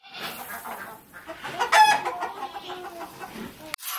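Farm chickens cluck and a rooster crows nearby, several birds overlapping in busy, uneven calls that peak briefly in the middle.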